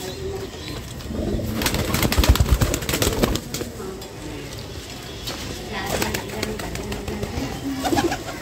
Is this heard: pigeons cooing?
yes